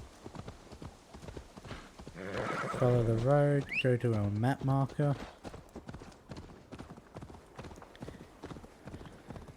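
Horse hooves clop steadily along a road in Assassin's Creed Valhalla, a brisk continuous rhythm, with a whinny rising midway while someone talks over it.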